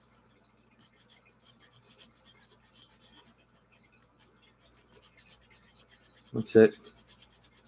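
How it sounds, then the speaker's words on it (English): Hand filing of an Impulse RC drone frame: soft, quiet rasping strokes in a steady rhythm, rising to a louder, denser burst of scraping near the end, with a brief spoken remark. "So just take it and then you file out these shavings here."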